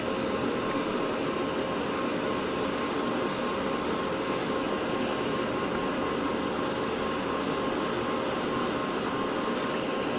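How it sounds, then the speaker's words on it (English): Gaahleri Mobius SP airbrush laying down a light coat, giving a steady close hiss of spraying air with brief breaks and resumptions in the trigger flow, no talking. "I really like the way this brush sprays."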